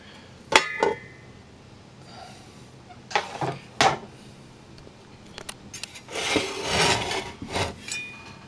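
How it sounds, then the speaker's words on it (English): Screws are backed out of the case of a Blue Sky Solar Boost 50 MPPT charge controller, heard as close, scattered metallic scrapes, squeaks and taps, then a longer rubbing rasp as the cover is worked loose. "just remove four of these screws here."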